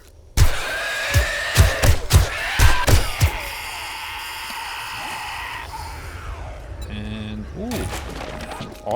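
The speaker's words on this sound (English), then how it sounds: "Automatic weapon." An automatic weapon fires in the 7 Days to Die zombie game: a rapid burst of about eight loud, close, punchy shots in the first few seconds. A humming tone and scattered clanks follow.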